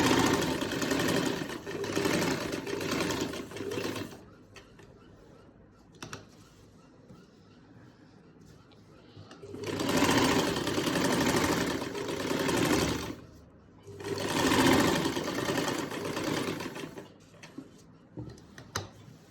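A sewing machine stitches the neckline of a lined kameez, running in three rapid, rattling bursts of a few seconds each, separated by quieter pauses, close up with no talk.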